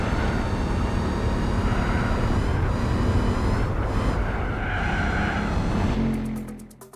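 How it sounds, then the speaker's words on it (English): A Mercedes SLR McLaren engine in Gran Turismo 4 drones loudly and steadily at a sustained roar, then cuts off abruptly near the end. "Listen to the engine."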